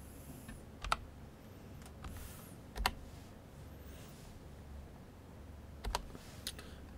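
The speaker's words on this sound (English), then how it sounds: "I did just get a new keyboard" Keys clack on a new computer keyboard during an online card game session, sparse sharp clicks and short bursts of typing at close range over a faint steady room hiss, with no talk.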